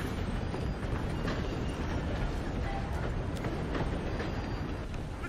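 A steam-era train in Red Dead Redemption 2 runs with a loud, continuous rumbling roar of rolling wheels, carried close and steady with scattered metallic clanks throughout.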